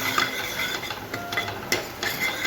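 A spoon stirs dal makhani with garam masala in a pot, giving a close series of scraping, clinking strokes in an uneven rhythm over a faint sizzle, with no voices.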